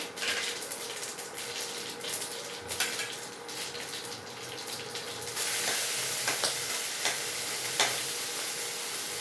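Mustard seeds and cumin hit hot ghee in a pan and give a steady, close crackling sizzle that grows louder and denser partway through, with occasional sharp pops.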